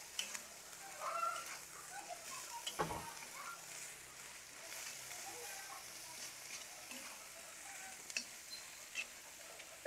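A home cook stirs a clam stir-fry (tumis kupang) in a pan, soft sizzling under scraping spatula strokes with an occasional metallic knock, quiet and close, no talk.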